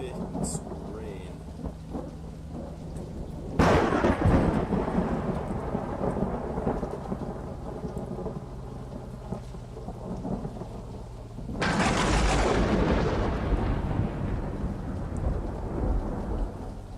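Steady rain pours throughout in the storm-chasing game Tornado: Research and Rescue, broken by two loud rolling thunderclaps, the second a long sustained rumble, with faint talk underneath.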